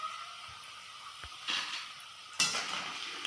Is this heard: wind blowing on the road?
no